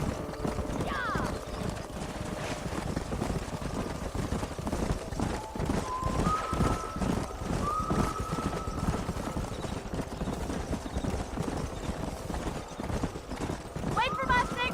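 Horses gallop in the video game Red Dead Redemption, a steady, rapid clatter of hooves, with brief whinnies and voices over the rhythmic pounding.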